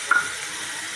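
Ginger, garlic and chili pastes fry in a hot pan for a chicken dish, giving a steady broadband sizzle with a brief stirring clatter near the start and no voices.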